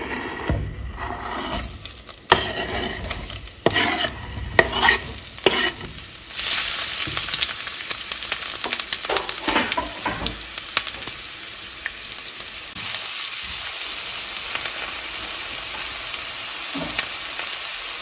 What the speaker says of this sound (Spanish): En una cacerola con aceite vamos a agregar una cebolla cortada en medias lunas